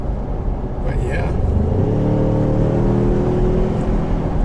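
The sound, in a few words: 2020 Ford Ranger engine accelerating while driving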